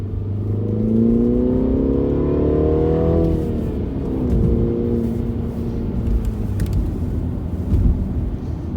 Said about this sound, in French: On va pouvoir écouter enfin le moteur de ma voiture. C'est le Countryman S 2019. On met ça en mode sport.